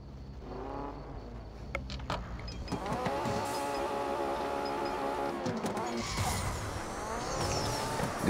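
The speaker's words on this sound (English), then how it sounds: "Good thing about this Porsche, it actually does have a decent area in order to get a perfect launch." A Porsche race car launches in the Need for Speed No Limits racing game, its engine revving and rising in pitch with tire screech and game effects, a steady moderate roar filling the whole stretch.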